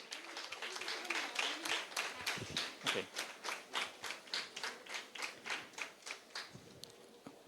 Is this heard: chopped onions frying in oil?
no